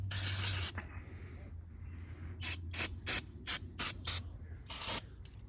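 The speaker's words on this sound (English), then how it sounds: "Spray off any dirt." A long hiss of spray at the start, then a series of short, sharp spray bursts in an uneven rhythm cleaning dirt off 65cc dirt bike engine parts, with a low hum underneath.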